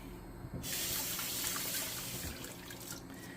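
A kitchen tap turns on and runs in a steady close stream, water splashing as meat is rinsed under it for about three seconds.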